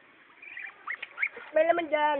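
A duck quacks repeatedly in quick, nasal bursts close by, the last calls louder and more drawn out.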